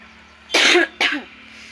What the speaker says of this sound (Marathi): खोकलाच थांब पण आहे,